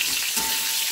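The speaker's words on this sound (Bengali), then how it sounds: "তেল গরম হয়ে গেছে, তেলে দেবো একটু 5 ফোড়ন" Five-spice seeds, a dried red chili and a bay leaf hit hot oil in a pan, giving a brief, loud, close hiss of sizzling.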